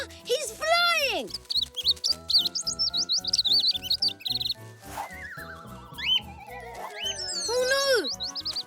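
A cartoon baby bird lets out bright, rising and falling chirps in several short flurries, mixed with lively music and other cartoon voices and sound effects.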